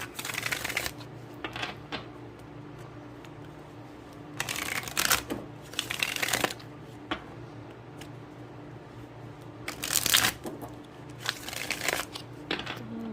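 Tarot cards shuffled and drawn in a quiet room: several bursts of riffling and flicking, each lasting about a second, separated by stretches of near silence and a low steady hum.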